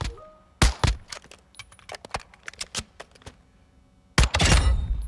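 Quick tap-fired shots from a tactical weapon in Modern Warfare II ring out as a scattered series of sharp cracks and clicks, with a louder, denser burst of gunfire near the end.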